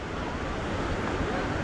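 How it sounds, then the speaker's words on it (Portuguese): Heavy, rough surf on a cold beach at Maricá, Brazil, a steady broadband roar of breaking waves mixed with wind buffeting the microphone, loud and continuous with no distinct speech. "essa região aqui, o mar é pesado"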